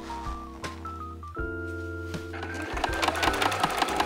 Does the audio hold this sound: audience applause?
no